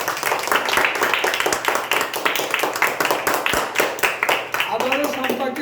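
Children at an education centre clap for a birthday celebration, a dense run of sharp claps with talk and voices mixed in throughout, loud and close, thinning toward the end as a voice takes over.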